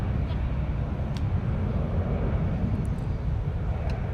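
A heavy Airbus A330 airliner rolls for takeoff at Minneapolis–Saint Paul airport, its engines giving off a steady, broad, rumbling roar that stays even and somewhat distant throughout.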